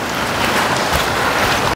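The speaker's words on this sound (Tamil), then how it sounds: "எப்போ பார்த்தாலும் மழை பெஞ்சு கொண்டே இருக்குது" Steady rain falls in a dense, even hiss that stays constant and fairly loud throughout, with no voices or other distinct sounds over it.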